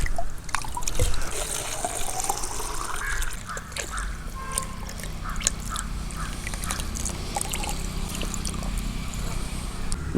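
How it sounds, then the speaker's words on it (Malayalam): Water poured steadily over a newly planted pineapple plant at home, a continuous close trickle and splash lasting the whole stretch with small irregular drips and knocks. "വെള്ളമൊഴിക്കാൻ പോവുകയാണ്"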